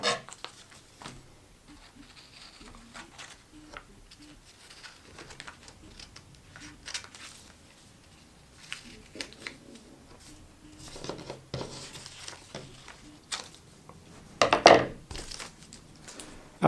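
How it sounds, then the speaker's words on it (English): Scissors snip through the paper backing of Leukotape, a series of small, close, dry cuts and crinkles scattered over a quiet room, with a louder rustling burst near the end. "I'm now going to cut this paper backing down to size."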